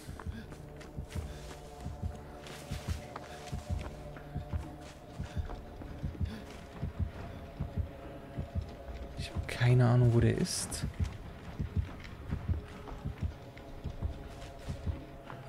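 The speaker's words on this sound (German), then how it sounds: "Wieso höre ich die ganze Zeit Herzschlag?" A steady thumping heartbeat from the Dead by Daylight horror video game pulses in a regular low rhythm throughout, running under German-speaking players' conversation, with a brief louder burst midway.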